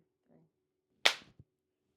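A single sharp hand clap rings out close and loud in a quiet room, followed by a faint small knock, with a brief murmur of voice just before.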